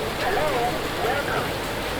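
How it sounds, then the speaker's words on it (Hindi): Heavy monsoon rain pours down in Phuket, Thailand, a steady broadband hiss of rainfall filling the whole clip, with a voice talking over it. "बहुत तेज़ बारिश है भाई, बहुत तेज़ गजब बारिश है भाई फुकट की"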